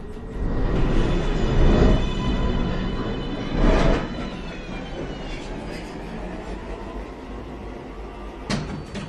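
A New York City subway 1 train pulls into Chambers Street station with a rumbling roar, metallic squeals and screeching brakes, and a couple of clunks and a door-like slide near the end as it comes to a stop.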